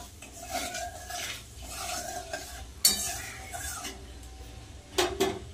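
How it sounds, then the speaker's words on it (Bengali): Nigella seeds sizzling in hot oil in a kadai as a utensil stirs them, with a steady crackling hiss, scraping strokes and a couple of sharper metallic knocks close by. "তেলের মধ্যে দিয়ে দেবো কালো জিরে।"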